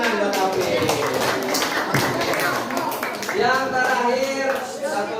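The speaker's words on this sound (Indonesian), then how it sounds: "Tepuk tangan buat Taufik." Children clapping in a classroom for a pupil named Taufik, a dense patter of small hands over a few seconds, with voices mixed in.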